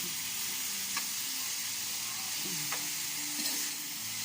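Onion, ginger and garlic simmer in a pan for Bicol express. A faint, steady sizzle and bubbling hiss runs throughout, with a few soft stirring taps.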